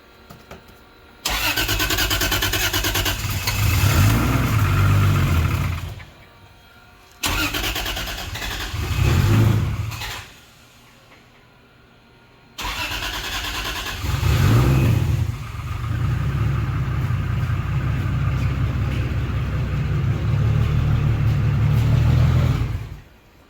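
A Toyota Chaser engine, running on corn fuel after long disuse following a crash, repeatedly cranks and runs, revving up loudly in several long bursts separated by short pauses, with no talking.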